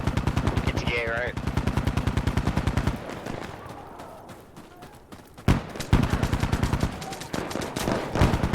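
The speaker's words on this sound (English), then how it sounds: "Machine gun!" Bursts of machine gun fire in the video game Insurgency Sandstorm come as rapid, loud, evenly spaced shots that pause briefly and resume, with a player shouting over them.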